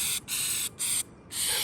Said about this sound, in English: spray a good little bit of Flex Seal around it